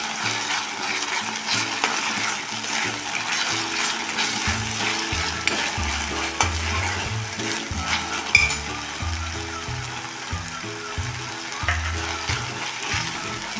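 Fresh coriander sizzling and frying in oil with cooked-down tomato purée, a steady dense crackle with a spoon scraping and stirring through the pan, close and continuous, no talking.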